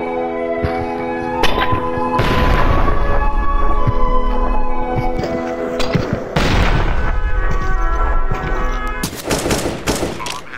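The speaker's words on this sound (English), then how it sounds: "I just got hit with the flashbang." Loud, dense bursts of gunfire and explosive booms from a Counter-Strike match, with a flashbang going off among the shots; rapid volleys and impacts run nearly continuously from close range, with sharp crackling bursts near the end.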